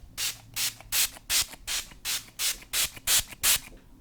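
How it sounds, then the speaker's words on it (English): A Wet n Wild makeup setting spray bottle mists ten times in quick, even bursts, each a short airy hiss, close up with no talking. "I'm going to cover my bangs while I spray"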